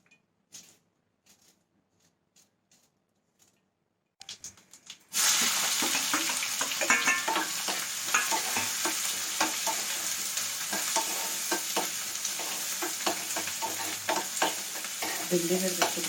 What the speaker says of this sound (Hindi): और मैं सुबह सुबह बना रही हूँ भिंडी की सब्जी।